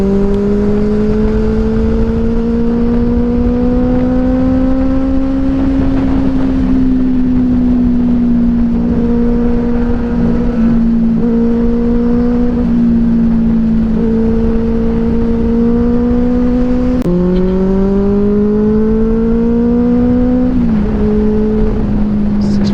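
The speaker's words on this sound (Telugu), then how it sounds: "full system exhaust" A Triumph Street Triple 765 RS with a loud full-system aftermarket exhaust drones continuously up close, its pitch rising and falling as the rider shifts and changes throttle.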